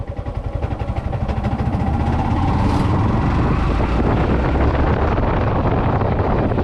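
A Yamaha MT 15 BS6 motorcycle engine pulls in third gear at 1500 RPM, a low, slowly rising drone buried under heavy rushing wind noise, with no talk.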